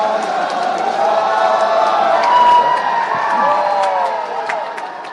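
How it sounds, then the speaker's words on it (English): A large outdoor festival audience at the Hornbill Festival cheers and whoops continuously, a dense, loud crowd roar with scattered shouts holding steady for several seconds before easing slightly. "Shall we give our performers a big round of applause?"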